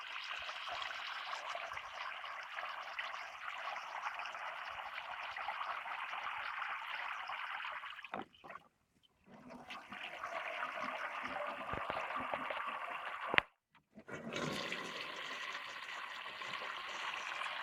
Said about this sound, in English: watching and waiting for me to fill the water dish.